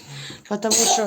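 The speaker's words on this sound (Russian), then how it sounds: "что ты чихаешь, будь здоров." A child sneezes once up close at home during breakfast, a short burst followed by adult speech.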